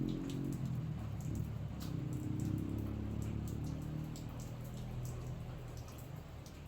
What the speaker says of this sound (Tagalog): lalong lumalakas yung ulan guys